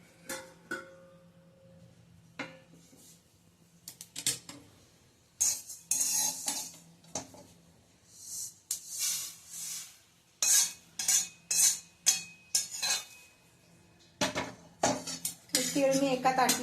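Roasted sesame seeds are scraped out of a pan onto a plate, making a series of close metallic clinks and scraping strokes in uneven bursts. Quieter gaps fall between them.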